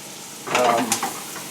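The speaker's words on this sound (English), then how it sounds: "I'm using butter and a little bit of olive oil to saute these onions" Yellow onions sauté in butter and olive oil with a close, crackling sizzle as they are stirred in the pan, swelling briefly during the stir and settling back to a steady fry.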